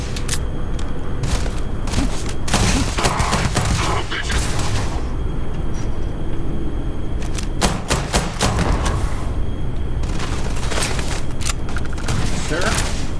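Dense gunfire crackles through a firefight in the space game Starfield, with bursts of rapid shots, booms and thuds packed together, loud and nearly continuous, while voices talk over the combat.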